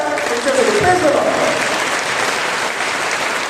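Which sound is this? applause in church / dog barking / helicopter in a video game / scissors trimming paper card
applause in church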